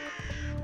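A crow gives a single short, harsh caw, loud and close, with no one speaking.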